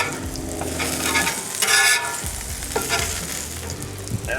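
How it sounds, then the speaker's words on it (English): Sausage patties frying on a Blackstone flat-top griddle give a steady, close crackling sizzle, with scraping and stirring sounds and a brief louder burst of spatter near the middle. "I'm going to move these patties over here"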